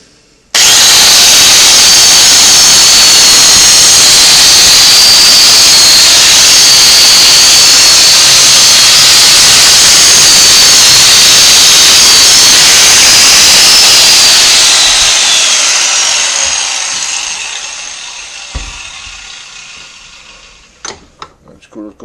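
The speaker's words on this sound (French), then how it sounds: "On va y passer une petite brosse de finition pour le polir." A small finishing brush spins against a rusty screwdriver clamped in a vise, giving a loud, steady broadband whir that runs for about fifteen seconds, then winds down and fades, leaving a few faint clicks.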